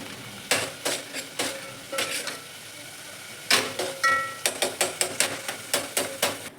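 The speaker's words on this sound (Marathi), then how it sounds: "आता सांबार फोडणीला आहे" Sharp metallic clinks and scrapes of a spoon stirring sambar tempering in a hot pan, in quick bursts with a pause midway, over a faint sizzle.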